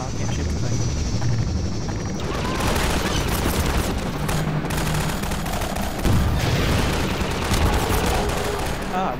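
Rapid gunfire fills a Half-Life 2 airship battle, with continuous dense rattling bursts and booms over heavy game noise, loud and close throughout.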